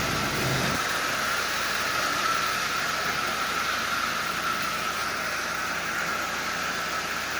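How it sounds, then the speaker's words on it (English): An old Marx 999 toy train locomotive runs with a steady, even mechanical whir that stays close and constant throughout, with no voices. "this locomotive is running perfectly."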